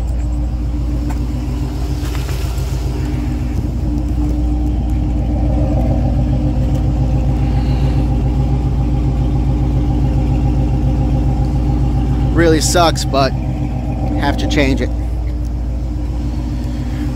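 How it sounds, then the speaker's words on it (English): A Corvette engine idles while warming up, a steady low rumble running throughout, with a person talking briefly over it near the start. "just warming up the car a little bit"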